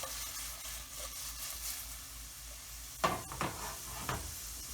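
Onions and vegetables sautéing in oil for a Moo Goo Gai Pan variation, a soft steady sizzle that turns into a few louder stirring clatters and scrapes near the end, with no talking.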